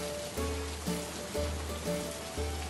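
Heavy rain pouring down in a steady dense hiss, loud and continuous, with a low pulsing hum underneath.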